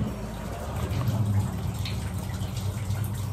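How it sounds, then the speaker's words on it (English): Water running and trickling through a drain pipe outdoors, a soft continuous wash with faint drips, steady and fairly quiet throughout with no voices. "That drain pipe sounds so neat."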